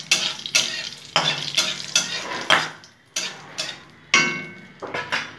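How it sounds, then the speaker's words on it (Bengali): Cinnamon, bay leaf and dried chilli sizzle in hot oil as a tempering, with repeated scraping stirs of a spatula against the pan in an uneven rhythm, close and clear, no voices. "ভালো করে ফোড়নটা ভাজা হবে"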